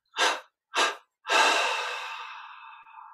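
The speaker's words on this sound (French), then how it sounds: "on va inspirer lentement et profondément par les narines" Slow, deep breaths drawn through the nostrils: two short, close inhales followed by a long, fading exhale, heard alone in quiet.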